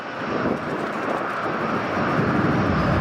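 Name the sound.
Hong Kong Airlines airliner flying at Sydney Airport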